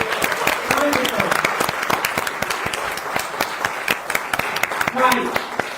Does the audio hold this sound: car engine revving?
no